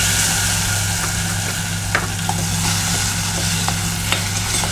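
Ground raw mango mixture for a sweet-sour kadhi hitting a hot pan of tempered oil with asafoetida and turmeric, a steady loud sizzle with occasional pops and stirring scrapes, no talking.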